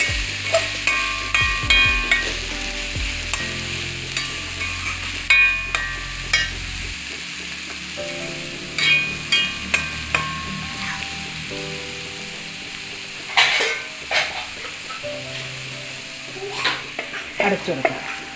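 Spices temper in hot oil for sambar, giving a loud, close sizzle with scattered sharp crackles and pops, and stirring knocks at irregular intervals.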